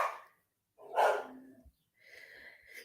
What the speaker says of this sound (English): His bark is getting so much stronger